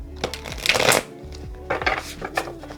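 A tarot card deck is riffle shuffled by hand, giving two quick bursts of rapid fluttering card slaps separated by a short pause, close and crisp with light handling taps between.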